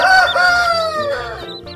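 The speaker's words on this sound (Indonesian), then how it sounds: "Ini namanya induk ayam." A mother hen with orange and white feathers, laying eggs, gives a short, loud, close vocal call that rises and falls over a couple of seconds, with no talking.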